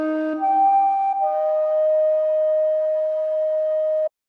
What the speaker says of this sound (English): And this instrument is known as the shakuhachi. This is a longitudinal wooden flute originally from China, but introduced to Japan in the 7th century.